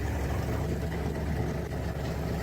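A car engine idling through dual exhaust pipes, a steady low rumble heard close and continuous with no speech.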